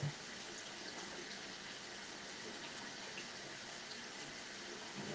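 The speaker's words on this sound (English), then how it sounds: "Everybody's getting a drink of water." Steady running water from a tap, poured for drinking, a continuous close hiss that fills the whole stretch with no talking.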